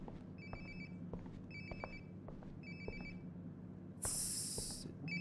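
A phone rings in the Life is Strange video game, sounding in short repeated electronic trilling bursts about once a second over a low room hum, with a loud hissing noise cutting in near the end.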